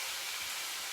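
A steady, loud hiss of vegetables sizzling in a pan for an Asian-style fish stew fills the whole moment, bright and close, with no voices.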